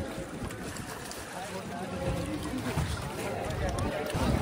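A boat moving on the river at the Kumbh Mela, a continuous rushing drone of water and wind noise that grows slightly louder toward the end, with voices faintly mixed in.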